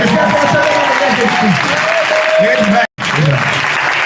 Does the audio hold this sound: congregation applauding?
yes